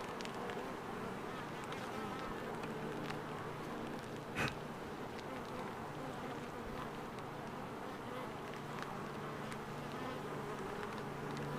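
A swarm of honey bees being captured in Red Bluff hums continuously for the whole stretch, a dense steady buzz with one brief louder knock partway through and no talk.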